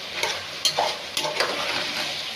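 Chopped vegetables, including pumpkin, cauliflower, carrot and papaya, go into a cooking pot for boiling. The result is a few short, close clatters and scrapes over a soft hissing background, with no talking.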